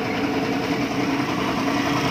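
A Honda Beat fi 125 scooter with a misfiring engine that stalls, running as a steady close engine drone with a fine buzzing texture, constant in level across the short stretch, with no voices.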